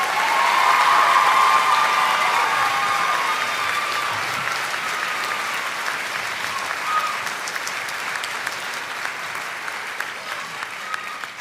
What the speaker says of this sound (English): Another round of applause for the class of 2026.